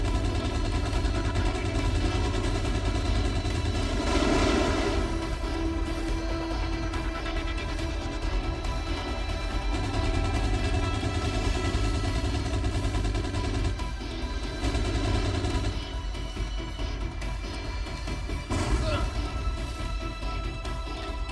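Rapid sustained machine-gun fire from a fighter plane in a flight combat video game, loud continuous rattling bursts over a droning engine, with talking throughout.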